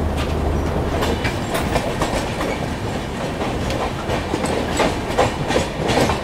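Humsafar Express train pulling out of a station alongside another departing train near Mumbai, with steady loud rumble, rhythmic wheel clatter over rail joints and occasional clanks throughout.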